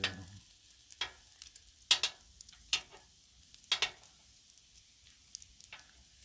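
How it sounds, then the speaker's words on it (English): Bacon frying on a Blackstone griddle, a soft steady sizzle broken by sharp scraping taps of a spatula at irregular intervals, fairly quiet and close. "We got us some pretty bacon griddled up."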